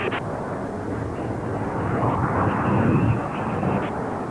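Jet aircraft flying in a close squadron formation, a broad steady engine roar that builds slightly and swells near the middle, heard up close without speech.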